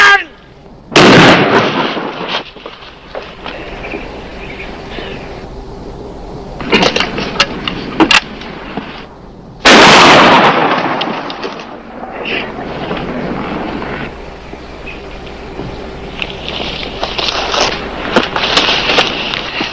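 Shotgun blasts in a western gunfight: two loud booming shots several seconds apart with ringing tails, and lighter clatter and movement around them.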